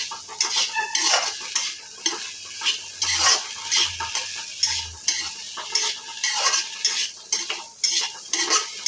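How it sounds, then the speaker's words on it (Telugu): A spoon scrapes and stirs a carrot and potato fry in a pan in steady repeated strokes, with a soft sizzle beneath, close and fairly loud, with no voices. "ఇవన్నీ కలిపి మొత్తం బాగా కలిసేలాగా కలుపుకోవాలి"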